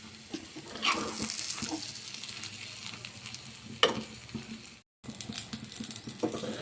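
A double-egg omelette sizzles in a pan, seasoned with garam masala and coriander, a steady close frying hiss with occasional scrapes and clicks of a spatula as it is turned, broken by a brief gap.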